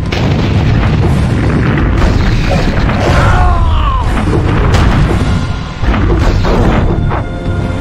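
Broadside batteries firing in the video game Godzilla Unleashed produce loud, relentless booms and explosive crashes, a dense rumbling barrage with sweeping effect tones midway and a brief dip before the blasts resume.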